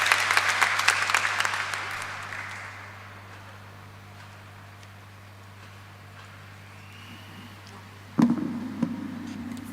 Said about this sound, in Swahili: hurirai Jesu makofi